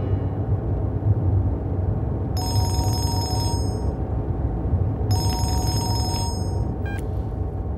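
Telephone ringing in a Telugu film scene, two bursts of bright electronic trilling with a short chirp after, over a steady low hum and background rumble.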